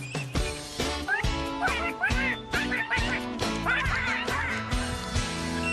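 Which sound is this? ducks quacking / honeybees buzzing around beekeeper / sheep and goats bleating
ducks quacking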